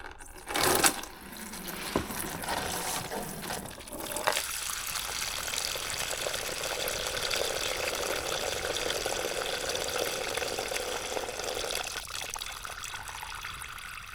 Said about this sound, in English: We're just going to undo that, and that should drain most of the coolant out of the car.